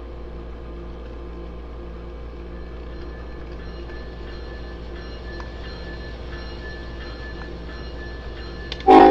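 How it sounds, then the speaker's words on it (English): A train rolls steadily down the line with a low continuous rumble and faint metallic rail tones, then a sudden loud burst at the very end. "I've got a whole train ready to be taken down this line."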